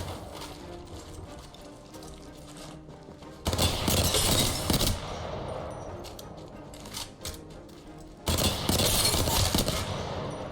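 Bursts of rapid gunfire from the Hemlock fired from the hip at close-range targets in Apex Legends, with two loud volleys of about a second each standing out over a lower, steady background.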